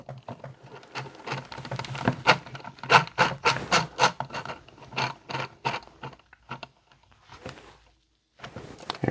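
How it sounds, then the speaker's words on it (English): Small screws being twisted into a ROG Ally handheld gaming PC, giving off a run of close, quiet rasping and rubbing bursts in a quick irregular rhythm. The bursts thin out and stop near the end. "I'm just putting them in and giving them a good twist."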